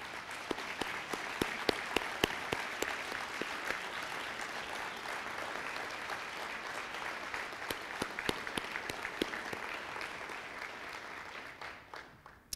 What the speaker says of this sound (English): please stand and have us recognize them with a round of applause